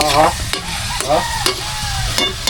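Ground meat sautéing in a pan, mixed with shrimp paste: a steady sizzle broken by regular spoon scrapes and clacks about every half second, close and clear with no talking.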